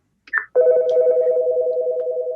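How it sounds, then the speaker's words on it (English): A telephone rings during a talk on estate planning and medical decisions: a short chirp, then a steady electronic ring tone that carries on unbroken and fairly loud, with no voices over it. "sorry, my phone rang"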